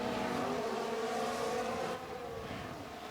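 Continuous high engine whine of Formula 1 cars circling the Sao Paulo track in the F1 Manager 22 game, a blended distant drone that drops slightly in level partway through, without talk.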